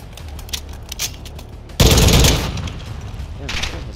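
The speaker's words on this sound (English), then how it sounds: "You're also shooting your gun instead of just crouching around the street." Gunfire in the video game Call of Duty DMZ: a sudden loud burst of shots after quieter distant pops, fading into background rumble, while players talk.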